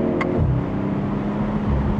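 A BMW 4 Series engine idles with a smooth, low, steady hum, close and continuous, with a faint brief click near the start and no talking.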